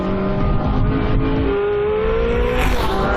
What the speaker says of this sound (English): Now the race-bred V8 supplies the majority of the power.